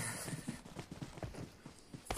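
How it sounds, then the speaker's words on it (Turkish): Rhythmic footsteps in the PUBG Mobile video game, a steady series of close, crisp thuds and scuffs repeating about every quarter second, heard alone with no talk over them. "Ayak sesi."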